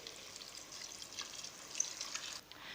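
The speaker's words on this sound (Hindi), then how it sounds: "ये आधे गिलास के बराबर पानी शामिल करूँगी।" Water poured from a half glass into frying masala in a pan while cooking chicken biryani, a faint, soft hissing and trickling splash lasting a couple of seconds, with no talk.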